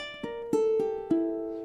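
Ukulele playing a short strumming etude phrase, a few plucked and strummed notes ringing close and clear in a quiet room, alone without talk.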